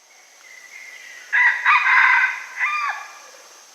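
A rooster lets out a single drawn-out cock-a-doodle-doo, fairly close and clear, rising and then trailing off over a steady faint hiss.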